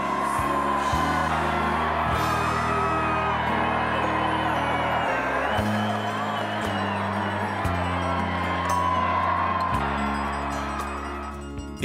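Crowds cheering outside Buckingham Palace on VE Day 1945, a dense mass of distant whoops, yells and shouting that carries on steadily under a swelling orchestral score.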